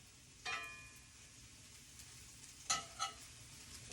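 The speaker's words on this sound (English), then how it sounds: "So let's get some coconut oil in this egg pan. Get the eggs going." Eggs frying in coconut oil in a cast iron pan, a faint sizzle with a few sharp clinks and scrapes of utensils at intervals.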